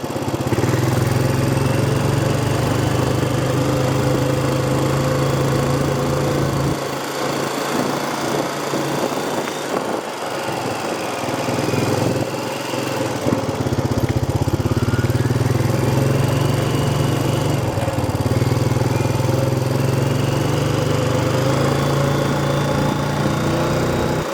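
Tractor mowing on a homestead, a loud, steady low engine hum throughout, dipping briefly in the middle amid rattling and rustling before resuming its even drone.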